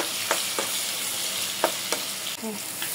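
Onions soften in oil in a pan for a hilsa and taro-stolon curry, giving a continuous close sizzle broken by a few sharp spatula scrapes and taps.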